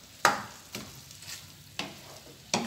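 Onion stirred into a hot pan with beef juices for Peruvian lomo saltado, a soft steady sizzle broken by a few sharp scraping stirs, fairly close and with no talking.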